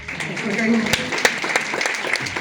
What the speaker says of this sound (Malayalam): Give them a big clap.